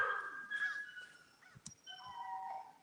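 A puppy whimpers and yips up close in short, high, wavering whines with a couple of brief sharp barks, quiet and alone.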